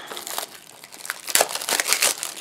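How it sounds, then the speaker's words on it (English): Plastic shrink wrap is torn and peeled off a Blu-ray case close up, a run of crisp crinkling and crackling rustles growing louder toward the end. "we're gonna have to pull this plastic off"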